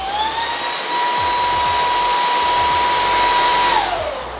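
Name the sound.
cordless stick vacuum running on turbo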